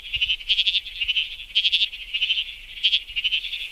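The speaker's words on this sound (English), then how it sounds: "It's the bleating froglet. This is a tiny little frog, and it calls and sounds a lot like a sheep." A bleating froglet, a tiny frog, gives sheep-like bleating calls in a steady series of short, pulsed bursts, several in a row with brief gaps, fairly close and clear with no other sounds.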